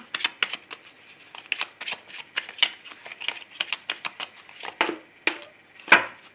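Oracle cards shuffled by hand for a love reading, a rapid run of crisp papery riffles and slaps, close and clear with no talking, ending in a sharper snap.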